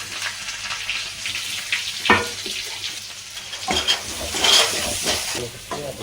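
Onions, cumin seeds and curry leaves frying in oil in a pan for chana masala, a dense continuous sizzle with sharp bursts and spatters as things hit the oil, close and loud, no talking.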